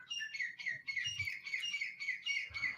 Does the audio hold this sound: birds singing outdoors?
yes